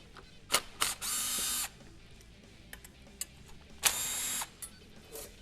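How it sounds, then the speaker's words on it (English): An 8mm wrench works bolts off a Honda XR650R motorcycle during an electric starter install: quiet ratcheting clicks in two sustained buzzing runs, with a few sharp metallic taps and clinks between, close and faint, no talk. "We're going to be removing that cable bracket as well as the sprocket bolt"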